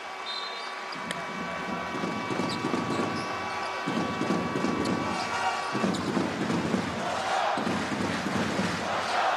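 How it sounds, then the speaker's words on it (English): Crowd noise fills an arena during a basketball game in Amman with Jordan playing, a loud steady roar running throughout, with ball bounces, squeaks and scattered shouts on top. "And the crowd are certainly starting to become a factor in this game."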